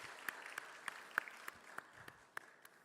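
A congregation at a Sunday church service claps to glorify God, faint and distant, with separate claps landing in a steady, even rhythm.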